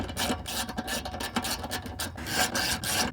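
Small 8mm self-threading screws being driven by hand into the deck of an MTD 42/46-inch riding mower, giving a steady scratchy rasping and rubbing that runs throughout at close range, with no talking.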